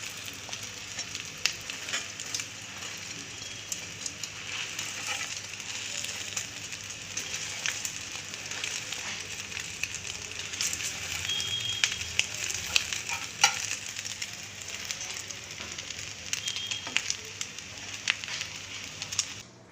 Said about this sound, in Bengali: ডিম ভাজি করব